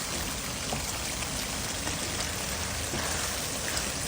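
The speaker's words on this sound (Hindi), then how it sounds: "कीमा भुन रहा है" Minced meat (keema) frying in a pan while being cooked for a Pakistani qeema matar aloo, a steady dense sizzle and crackle, close and continuous with no talking.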